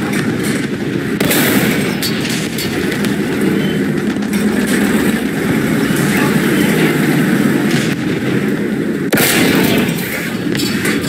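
Tank cannon fire and battle noise from an M3 Lee in War Thunder, a dense, loud, continuous roar of engine and distant gunfire with sharper blasts near the start and again toward the end.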